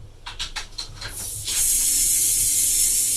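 A FlexBot snake robot built from short plastic segments extends one segment, giving a run of quick rattling clicks that give way to a loud, steady hiss with no talking.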